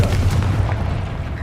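A Confringo fire spell explodes in Hogwarts Legacy with a dense, booming blast that rumbles low and loud for about a second before tailing off.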